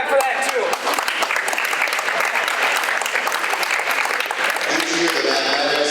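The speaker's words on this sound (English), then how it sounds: "Let's clap for that too." Audience applause at a school awards event, a full hall clapping loudly and continuously, with some voices faintly mixed into the steady roar.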